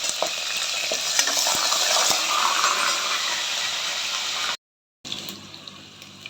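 Green chillies fry in hot oil for menthya bath, a loud, dense crackling sizzle with light stirring clicks, close up, cut by a brief silent gap before the frying resumes.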